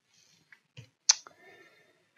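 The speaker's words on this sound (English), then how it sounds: "you can click on a point and click on another point" A computer mouse gives a few sparse, sharp clicks while working in ESPRIT wire EDM software, close and isolated against near silence.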